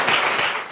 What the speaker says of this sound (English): Please give a round of applause to our fantastic panelists.